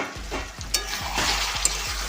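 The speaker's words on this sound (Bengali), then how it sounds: "মাংসটা আমি লেড়ে নিচ্ছি।" Chicken kosha, a village-style Bengali curry, is stirred in a pan, giving repeated scraping strokes over a steady close sizzle of frying meat, with no talk.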